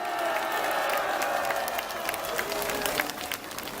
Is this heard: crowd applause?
yes